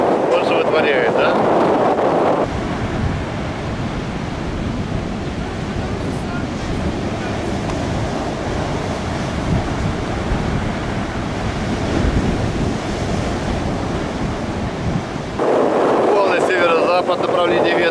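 Stormy sea surf crashing onto the shore under strong wind, a loud continuous roar of breaking waves with gusty wind noise on the microphone throughout, brief rougher bursts at the start and end.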